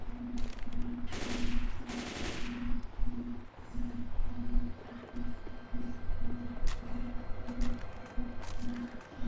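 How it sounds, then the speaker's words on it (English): Bursts of machine-gun fire from a video game, Left 4 Dead 2, come in several rapid volleys between quieter stretches, with a steady repeating tone running underneath. "I guess I'll take this here machine gun."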